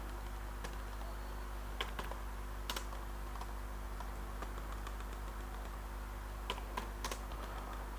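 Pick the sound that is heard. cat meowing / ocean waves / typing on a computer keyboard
typing on a computer keyboard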